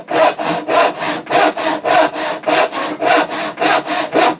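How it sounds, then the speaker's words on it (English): A hand saw cuts wood freehand in steady, evenly spaced strokes, about nine loud, close rasping pulls and pushes with no talking. "So now that we're straight across, the saw is going to continue to run straight across the top"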